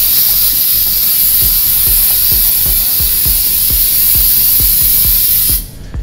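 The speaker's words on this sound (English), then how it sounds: "We simply apply that to an aerosol spray." An aerosol can of silicone spray mists a shuffleboard table in a loud, continuous close-up hiss with faint regular ticking underneath. The spray cuts off abruptly near the end.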